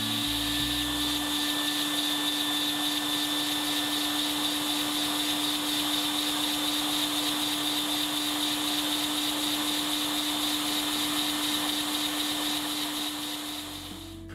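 A LEGO flap piston engine runs steadily and continuously at close range, giving off a constant mechanical whir with a sustained tonal hum and rapid clicking texture, without any talk.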